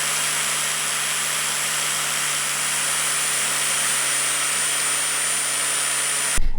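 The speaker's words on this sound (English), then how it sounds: "Let's grind." A power tool grinds down an open-ended wrench to reshape it into a 12-point wrench during a car exhaust manifold job, a steady, loud, high whine holding without a break for several seconds before stopping abruptly.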